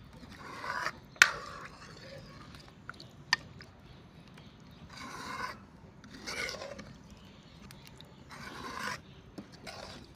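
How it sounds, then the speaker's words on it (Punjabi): A spoon rasps and scrapes in a pan while soybean chunks are tossed with spices for a curry. Several separate scraping strokes with quiet gaps between them, close and faint, with no talking. "ਆਪਾਂ ਜੀ ਬੜੀਆਂ ਨੂੰ ਮਸਾਲੇ ਦੇ ਵਿੱਚ ਚੰਗੀ ਤਰ੍ਹਾਂ ਮਿਕਸ ਕਰ ਦਾਂਗੇ"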